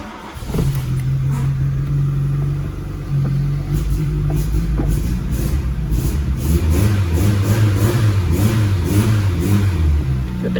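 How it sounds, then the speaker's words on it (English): A Volkswagen Scirocco engine revs up and down repeatedly, loud and close, its pitch rising and falling over a steady running idle. "Put a bit of revs on, there we go."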